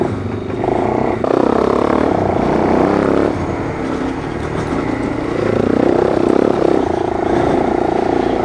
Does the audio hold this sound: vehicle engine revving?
yes